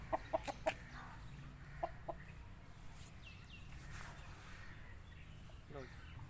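An aseel rooster gives a few short, sharp clucks near the start and again around the two-second mark, close by. Steady low background noise runs beneath, and a person talks faintly in the background.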